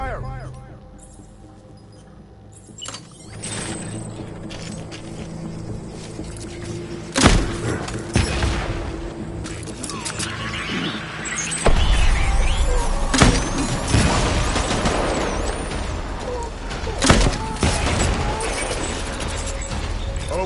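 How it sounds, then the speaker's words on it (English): Gunfire in Death Stranding cracks out as several sharp, loud shots among mechanical clanks, thuds and rumbling impacts, spread irregularly over a busy combat scene. "Enemy fire!"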